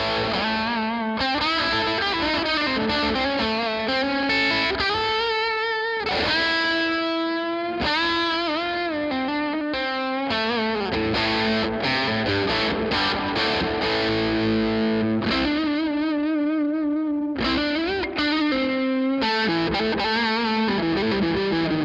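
A scalloped-fretboard electric guitar is played through an amp with overdrive, shifting between sustained notes, bends and melodic runs, loud and continuous with no talking.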